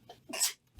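A single sharp sneeze bursts out close to the microphone during a tabletop game session, with quiet murmuring just before it.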